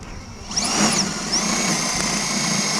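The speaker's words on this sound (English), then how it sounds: "It's always nerve-wracking drilling into the camper" A power drill whirs steadily at close range while drilling into a truck camper's exterior wall, its high motor whine rising briefly as the bit bites into the material.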